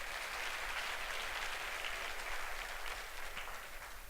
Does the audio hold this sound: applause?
yes